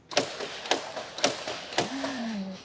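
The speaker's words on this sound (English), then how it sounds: "I just want my car door to sound like this." Mercedes-AMG G63 doors shutting, four solid thuds at a steady pace about half a second apart, close and clear, with a brief tonal squeak after the last one.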